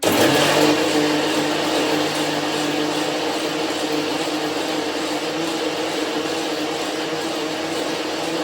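A kitchen mixer grinder blending boiled beetroot pieces with no water, running as a loud, continuous whirring motor drone throughout, with no talking.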